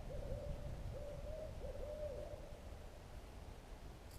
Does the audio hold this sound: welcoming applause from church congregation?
no